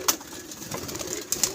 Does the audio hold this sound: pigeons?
yes